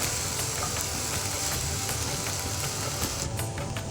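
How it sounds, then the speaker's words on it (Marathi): Onion is added to hot tempering oil in a pan and fries with a steady bright sizzle and crackle. It is heard close up, without talk. "आता आपण कांदा टाकूया."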